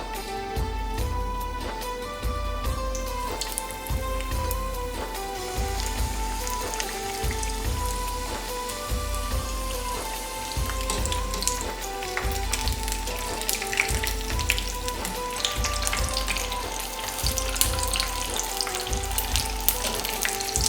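Chicken cheesy samosa lollipops deep frying in hot oil, a steady bubbling sizzle running continuously under loud tonal background music.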